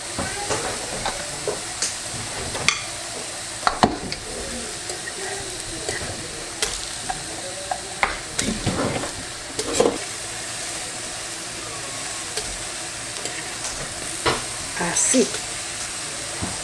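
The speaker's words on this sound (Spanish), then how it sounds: "Puse a asar un cuarto de cebolla y siete dientes de ajo" Quartered onion and seven garlic cloves roasting on a hot pan for a Mexican mole de frijol güero, giving a steady close sizzling hiss with scattered sharp crackles and pops throughout.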